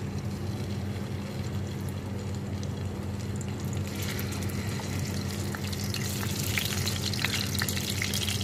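Fish sizzling steadily in hot cooking oil, a loud continuous crackling fry that brightens and grows busier toward the end, with no talk over it.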